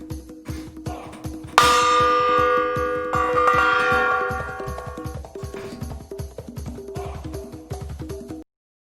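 A gong rings out in the game Hades, its bright metallic crash swelling and then a second strike layering on, both sustaining and fading over a rhythmic pulsing music bed.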